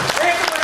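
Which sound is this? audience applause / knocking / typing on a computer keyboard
audience applause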